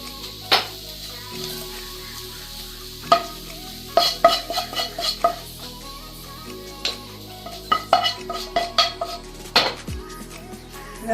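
Fried dried beef with onions scraped and stirred from a pan into a bowl, giving a run of sharp metallic clinks and scrapes of utensil on cookware in bursts, with a faint sizzle underneath.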